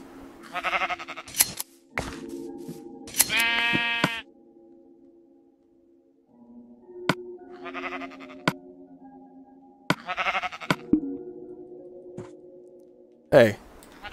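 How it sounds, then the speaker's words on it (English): Sheep in the video game Minecraft give several loud, close bleats in separate bursts, spaced through the clip against a quiet, faintly humming game background with occasional clicks. "Make me a black sheep."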